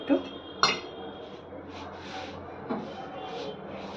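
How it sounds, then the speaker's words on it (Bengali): A metal wok (kadai) is set down on a kitchen stove with a sharp clank, plus a few lighter metallic knocks and clinks, close by under soft ambient room sound while someone talks. "এই যে কড়াইটাকে গরমে বসিয়ে দিলাম"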